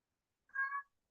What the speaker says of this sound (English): Do y'all hear this cat in here?